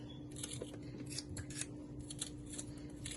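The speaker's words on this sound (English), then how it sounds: "I'm gonna just cut everything so you can see." Kitchen knife cutting washed seasoning vegetables, including sweet pepper, for Jamaican stew peas with pig tail, giving a close, steady run of small crisp chopping and slicing sounds with faint background hum and no talk.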